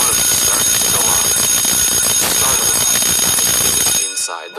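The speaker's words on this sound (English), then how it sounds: "alarms started to go off" School alarms ring out loud and continuous, a harsh steady electronic bell that fills the space for about four seconds before cutting off abruptly.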